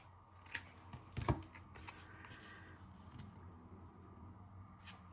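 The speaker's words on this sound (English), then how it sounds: "I think I might trim this one side a little bit." Scissors trimming paper make a few quick crisp snips early on, close and distinct, followed by quieter rustling and one faint snip near the end, with no talk.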